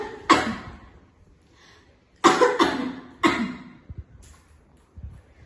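Four separate coughs, a lone one then a cluster of three close together, fairly loud and near, in a quiet room with no talking.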